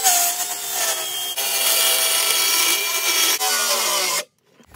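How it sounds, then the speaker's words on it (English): Handheld circular saw (skill saw) biting a curved arc into wood for a homemade RC car jump ramp, a loud steady buzzing cut with brief dips, ending abruptly in silence. "I'm just gonna cut a little arc in both of them to give it a little bit of a kicker"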